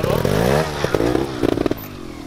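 A trial motorcycle with its rider too far forward loses grip and spins the rear wheel, giving a close, rising and falling engine revving with clattering bursts and scrapes over about two seconds.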